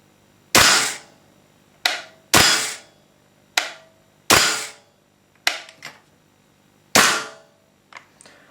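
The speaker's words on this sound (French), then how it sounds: "on va simplement faire quelques tirs à vide, juste pour apprécier le kick." An airsoft HK417 gas blowback rifle replica dry firing, seven or eight loud, sharp metallic bolt-recoil cracks spaced irregularly about a second apart, each with a short decaying clack, close and alone.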